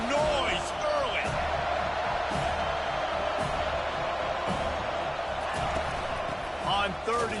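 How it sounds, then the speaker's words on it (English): Stadium crowd noise fills a football game, a steady loud roar with scattered shouts and claps, while commentary voices talk over it. "This crowd bringing the energy and noise early."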